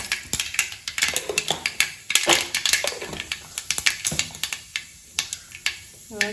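Mustard seeds and fenugreek hit hot oil in a pan, setting off a dense run of sharp crackling pops and spits, close and busy, with a voice talking over them.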